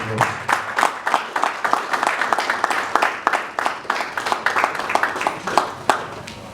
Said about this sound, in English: let's do a fantastic round of applause.